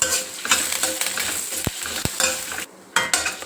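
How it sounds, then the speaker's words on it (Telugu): Dried red chillies and curry leaves fry in a pan, a crackling sizzle with stirring scrapes and two sharp utensil knocks, close, with a brief pause before the frying resumes. "ఇప్పుడు తుంచుకున్న ఎండుమిర్చి ఇవి కూడా కాస్త వేగనిద్దాం"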